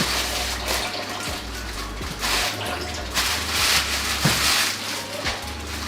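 Tap water runs steadily over scrunched sheets of greaseproof paper, a close splashing flow with uneven crinkly spatters and a low hum underneath.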